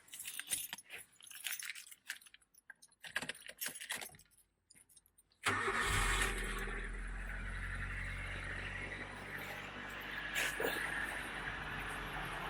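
Keys jangle and rattle near the ignition before an older sixth-generation Honda Civic, running without an airbox, starts up and settles into a steady, rumbling idle that carries on to the end.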